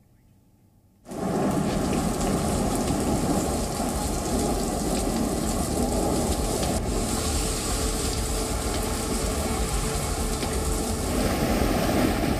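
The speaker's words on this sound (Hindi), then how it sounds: "चेन्नई में भारी बारिश जारी है" Heavy rain pours down in Chennai during Cyclone Michaung, a dense, steady roar that starts abruptly after a second of near silence and holds loud and unbroken, with no voices.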